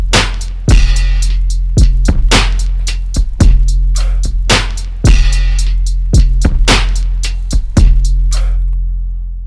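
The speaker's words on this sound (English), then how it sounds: "It's more like just straight one note 808 just to give it that layer" Hip-hop beat built on a one-note Vibe 808 that carries both bass and kick, layered with a pitched-up chant sample; heavy booming hits land in a steady, punchy rhythm, loud and alone, with no talking.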